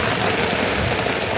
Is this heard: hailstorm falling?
yes